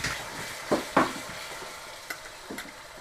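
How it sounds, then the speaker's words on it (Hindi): Ginger garlic paste frying with browned onions in a pan for dhaba-style egg curry, a soft steady sizzle broken by two louder stirring scrapes early on and lighter stirs later, close and alone. "इसको कम से कम हम 30 सेकंड के लिए भूनेंगे"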